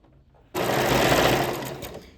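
A sewing machine runs in one fast continuous burst as it stitches down a folded skirt hem, loud and close, starting abruptly after a quiet moment and slowing slightly toward the end.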